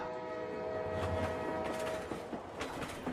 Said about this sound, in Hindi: वो देख हम लोग का ट्रेन आ रहा है।